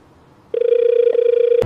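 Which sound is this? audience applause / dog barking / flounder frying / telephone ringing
telephone ringing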